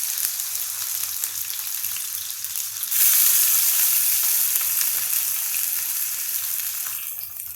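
Grated raw banana drops into a hot tempering of ghee, cumin and chilli, and a steady close sizzle jumps noticeably louder and brighter about halfway through, then keeps frying evenly with no talking.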